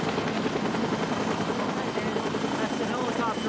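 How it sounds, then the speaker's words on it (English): A helicopter lands during an emergency rescue of an injured patient, its rotor and engine making a loud, steady, close roar through the whole stretch, with voices talking beneath it. "the helicopter landing right now"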